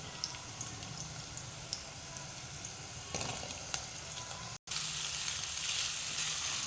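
Potato pieces fry in hot oil with onions, making a soft, continuous close sizzle with faint crackles and a brief dropout partway through.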